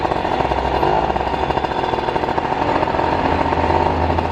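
A jackhammer pounds at an unfinished street repair construction site on Todor Kableshkov street, a loud, steady, rapid hammering with engine-like rumble that runs unbroken throughout, with no voices.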